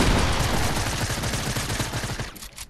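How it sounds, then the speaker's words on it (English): Rapid gunfire rings out in a continuous loud burst of overlapping shots, dense and close, lasting a few seconds before cutting off abruptly near the end. "Bro, why are you shooting at all?"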